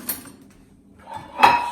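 Dishes clink as they are loaded into a dishwasher: a short knock at the start, then a sharper, louder clatter of crockery near the end, close by in a quiet room.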